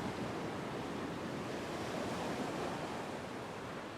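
Big waves and wild surf wash steadily onto a fishing beach, a loud, continuous roar of breaking water with wind noise over the microphone and no pauses.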